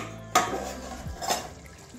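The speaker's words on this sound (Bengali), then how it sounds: "এবারে ঢাকনাটা খুলে দিচ্ছি" A metal lid clanks sharply off a pan of simmering potoler dorma, potatoes stuffed with paneer, followed by a second lighter clink of metal against the pan rim, close and clear.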